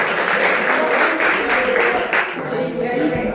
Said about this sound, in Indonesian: Kasih dulu tepuk tangan buat kenapa tidak?